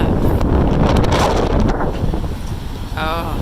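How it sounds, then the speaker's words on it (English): Strong spring wind buffets the microphone outdoors in a historic small-town street, a loud rumbling roar that eases slightly toward the end, with a brief voice near the close. "It's very windy though."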